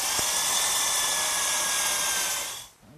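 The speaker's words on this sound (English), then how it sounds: "I'm going to drill a 1/4 inch hole about a 1/2 inch deep" A power drill bores a 1/4 inch hole about half an inch deep into a wooden blank in a woodworking shop, whining steadily and loudly for a few seconds before spinning down and stopping.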